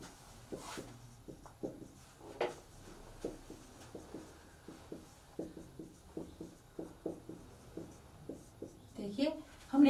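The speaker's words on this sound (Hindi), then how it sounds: "पहले मैं सारे स्टेप लिखती हूँ फिर आपको समझ आ जाएगी" Chalk or marker strokes as a teacher writes out chemistry reaction steps for amines on a board, a steady series of short scratchy taps, fairly quiet, with a brief voice near the end.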